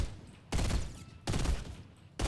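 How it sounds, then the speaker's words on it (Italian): Bursts of gunfire in the Fortnite video game, three loud rapid volleys separated by brief lulls, sounding fairly close with no talk over them. "Stanno sparando su est"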